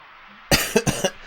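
A few close, sharp coughs in quick succession, three to four bursts within about half a second, standing alone against quiet background hiss.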